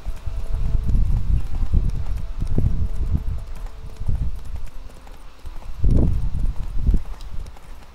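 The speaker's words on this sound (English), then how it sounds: "Look at all the wild horses." Horse hooves clip-clop in The Witcher 3 video game, a loud, close, rhythmic run of thudding hoofbeats that keeps an uneven gallop-like pace through the whole stretch, with heavier strikes around the middle and near the end.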